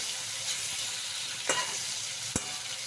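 Aar fish frying in a pan, a soft continuous sizzle with a couple of sharp spatters or pops partway through.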